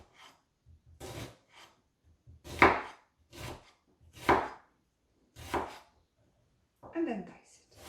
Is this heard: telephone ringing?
no